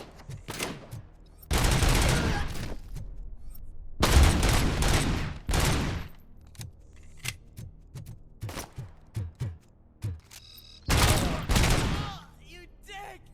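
Loud volleys of automatic gunfire in RoboCop: Rogue City, several long bursts separated by sharp single shots and brief pauses, close and dominant.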